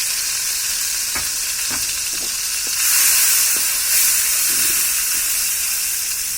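Crushed garlic fries in mustard oil for mango pickle, giving a loud, continuous close sizzle with scattered crackles and stirring clicks and a brief surge of hiss midway.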